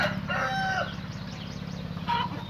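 A fighting game rooster on a farm crows loudly and close by with a harmonic cock-a-doodle-doo early on, then gives a second shorter crow near the end over steady low farmyard noise.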